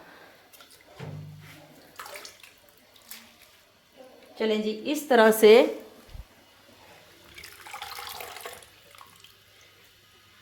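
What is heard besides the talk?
washing mustard greens and spinach in water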